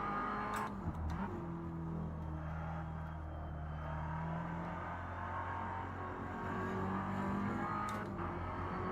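Race car engine in a sim racing video game, a steady droning motor note with shifting pitch as the car revs and lifts, faint and continuous for several seconds without talking.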